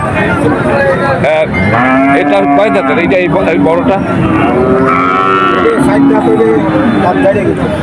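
Cattle at a village market in Betaga moo loudly and repeatedly, long drawn-out calls overlapping close by, while people talk over them.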